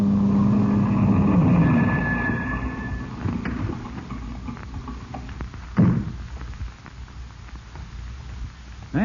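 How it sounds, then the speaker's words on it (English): Car approaching through fog near a ship's deck, a radio drama effect: a motor swells in the first seconds, then a thud and rattling noises follow. "Then you heard a car approach."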